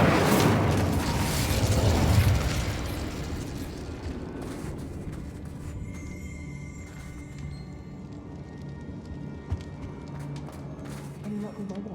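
A fire spell blast in the Hogwarts Legacy video game bursts loud at the start, a rumbling whoosh that swells and then settles into a low, lingering roar under game ambience.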